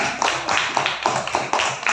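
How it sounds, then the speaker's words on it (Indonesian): A classroom group claps together in quick, rhythmic bursts, with loud, close strikes repeating about four times a second. "silakan tepuk tangan untuk kelompok 1 dulu"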